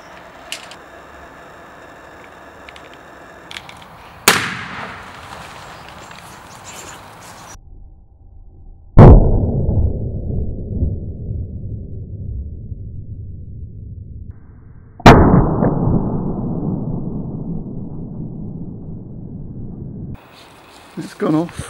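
A car seat side airbag is set off with jump leads from a 12V battery, giving a sudden sharp bang followed by a long fading hiss, heard twice, with a voice talking nearby.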